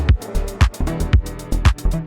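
House-style dance track playing back loud and alone, with punchy kick drums thumping in a steady four-on-the-floor pulse under bright, sustained synth and hi-hat layers.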